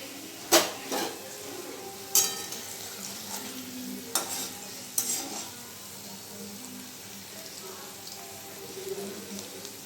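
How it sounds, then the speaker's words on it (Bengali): Chicken and potatoes fry in a wok over lowered gas, a soft steady sizzle broken by occasional sharp clinks and scrapes of a metal spatula against the pan. "গ্যাসটা কমিয়ে কমিয়ে ভাজছি"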